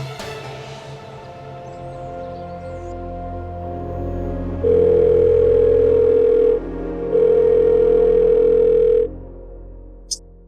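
A phone ringback tone repeats in two long steady pulses, clear and loud over a low background hum, with the call going unanswered; a brief click sounds at the end.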